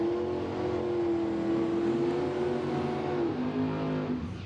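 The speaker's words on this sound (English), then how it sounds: "1969 Camaro" A 1969 Camaro drag car at a dragway holds a steady, loud engine drone with a slight pitch rise and then a drop near the end, heard alone without voices.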